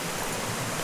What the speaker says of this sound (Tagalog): So ito na yung falls nila.